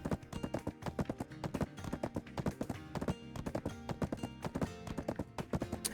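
A horse in a video game clip-clops along in a quick, regular rhythm of hoofbeats, loud and close, with faint background game sounds.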